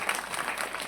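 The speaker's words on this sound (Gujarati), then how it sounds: "ફરીથી આપણે એક વખત જોરદાર તાળીઓ પાડીએ" An audience at a Hanuman temple religious gathering clapping, a dense steady patter of many hands throughout, fairly distant and even.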